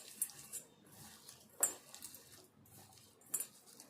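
Onion upma mixture with onion and coriander stirred by hand in a bowl, giving faint, scattered scrapes and a few soft clinks of utensil against the bowl, with quiet gaps between.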